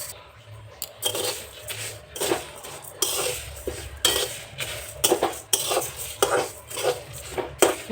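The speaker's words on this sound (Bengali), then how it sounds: "কড়াইটা গরম হয়ে গেছে, এবার এগুলো ভেজে নেব।" Dry chillies, fenugreek, asafoetida and whole spices are tossed in a hot wok, giving irregular scraping and metallic clatter of a spatula against the pan with a soft crackle underneath, close and uneven, no talk.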